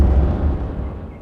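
Explosion boom in the beaver colony-building game Timberborn: a single loud, deep blast that rolls and fades over about a second.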